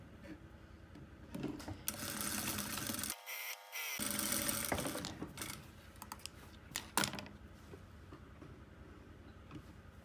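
A sewing machine stitches lining fabric to the front of a pocket in short bursts of fast mechanical whirring and ticking, quiet and close, with pauses between runs.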